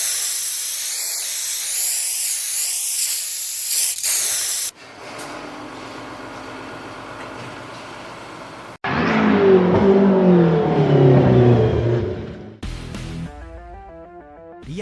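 Turbocharged tuned race car in an anime mountain downhill racing scene, with boost at 1.8 bar, hissing and spraying loudly in bursts, a steady rush giving way to harsher, louder whooshes and a final flutter.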